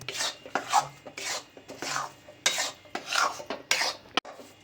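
Roasted pearl millet flour being stirred with jaggery for sukhadi, giving repeated close scraping and rasping strokes of a spoon against the pan, in an uneven rhythm with brief pauses.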